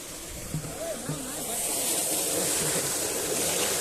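Water flows into a tank on a farm, and a steady splashing rush grows louder after a brief bit of talking at the start.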